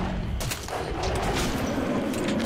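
Gunfire in the Metro 2033 Redux video game, a rapid series of sharp cracks over a dense, continuous rumble of game noise, loud and close.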